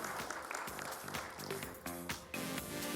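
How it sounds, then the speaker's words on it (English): An audience applauds a speaker being welcomed on stage at a business conference on offline payment solutions. The clapping is steady and fairly loud across the whole span, with tonal music-like sounds mixed in and no talking. "Let's give a huge round of applause and welcome him."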